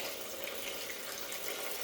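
Fluid pouring steadily from a truck into a drip pan, a constant near splashing trickle with no talk.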